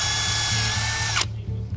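A power drill drilling into a car wheel lock whines loudly and steadily, its high pitch cutting out abruptly near the end, leaving a lower grinding rumble.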